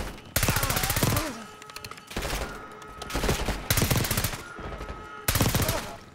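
Rapid bursts of automatic gunfire from a Call of Duty: Black Ops 6 prison-break mission, loud and close, coming in several sustained volleys separated by brief pauses.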